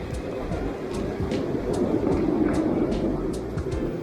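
A train passes along a rainy street, giving a steady, fairly loud rumble with regular sharp clicks layered over it for the whole stretch.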